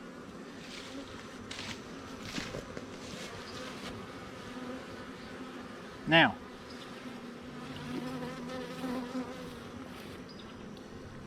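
A steady, low buzzing of many bees in a hive drones throughout, with a brief sharp knock midway and a voice speaking one word early on.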